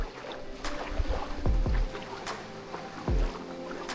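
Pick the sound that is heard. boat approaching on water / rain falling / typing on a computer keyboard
boat approaching on water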